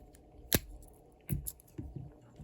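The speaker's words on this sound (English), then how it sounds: "the beautiful 91mm scissors. Working flawlessly, as always." Small 91mm scissors on a VSACKS Super Tinker pocket knife snip a few times, giving one sharp crisp cut followed by several softer close clicks and snips in a quiet room.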